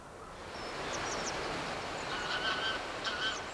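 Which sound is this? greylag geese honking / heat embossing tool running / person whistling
greylag geese honking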